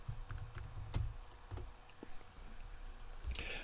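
Fingers tapping keys on a computer keyboard, a quiet, irregular run of close clicks and short bursts, with a brief flurry near the end and no talking.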